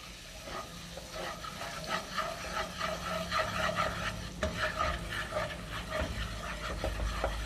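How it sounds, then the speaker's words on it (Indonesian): Wheat flour cooks in a pan and is stirred into a roux for creamy mushroom chicken, a soft sizzle broken by repeated scraping strokes of a spoon, close by and moderately loud, with no speech. "Kita masukkan tepung terigu. Ini istilahnya kita buat roux ya. Kita masak."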